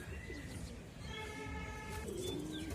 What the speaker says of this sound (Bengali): কবুতর এটার নাম হইলো কবুতর ভালো কবুতর